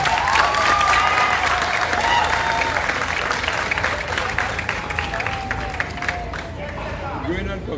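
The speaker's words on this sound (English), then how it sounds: "give them a round of applause" Audience applause at a steelpan fusion festival, a dense wash of clapping that holds steady throughout with crowd murmur and faint voices mixed in, tapering slightly toward the end.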